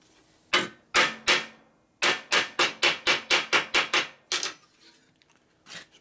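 A hammer beats metal flat on the primary of a 1957 Harley panhead. Sharp, close, ringing blows come as three strikes, a short pause, then a quick even run of about nine, trailing into lighter taps.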